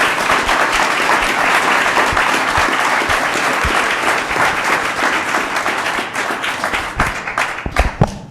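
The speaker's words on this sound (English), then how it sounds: "big round of applause." Loud, dense applause from a city council meeting audience honoring two officers, a steady wash of many hands clapping that thins near the end into a few sharper, separate claps.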